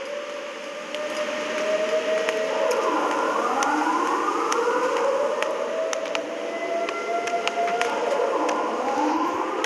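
A loud, wailing siren in a Siren Head horror video game rises and falls in long sweeping tones, overlapping itself continuously with a steady rumbling background and no talking.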